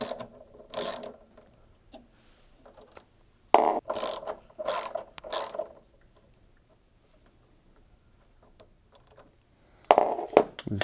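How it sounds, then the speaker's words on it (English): A ratchet with a 7mm socket undoes two bolts on a washer dryer, heard as a few bursts of quick clicking separated by quiet pauses, close and fairly loud. "we need to undo these two bolts using our socket set and"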